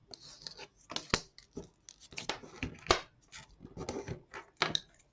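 Paper card being folded and creased by hand: a series of short crisp rustles and sharp creasing scrapes in irregular bursts, close and fairly quiet, with no talking.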